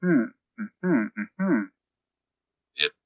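A voice imitates someone clearing his throat with a run of short, gruff voiced bursts in quick succession, a pause, then one brief rougher rasp, close and fairly loud.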